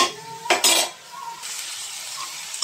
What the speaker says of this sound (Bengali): চিংড়ি মাছ ভাজি করবো, তার জন্য চিংড়ি মাছটা একটু ভাজা দিয়ে নিই